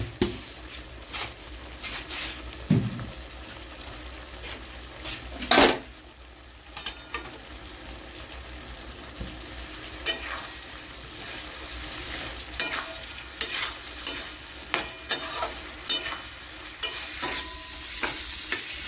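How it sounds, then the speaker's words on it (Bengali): A spice masala with a few grains of sugar fries and sizzles in a pan while a spoon scrapes and stirs it in repeated, irregular strokes. The sound is close and steady, with occasional sharper clanks against the pan and no voices. "এবার এই মশলাটার সাথে আমি খুব ভালো করে কষাবো যতক্ষণ না এর জলটা পুরোপুরি ঝরে যায়।"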